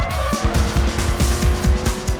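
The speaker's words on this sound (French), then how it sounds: "Dérapez dans les virages." In the Burnout Revenge racing game, a car skids through corners with loud engine roar and repeated tire squeals close up across a short burst.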